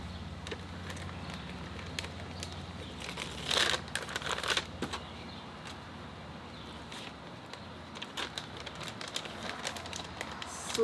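Plastic MRE chili macaroni meal pouch torn open close by: a brief loud burst of ripping and crinkling around the middle, followed by lighter rustles and handling noises.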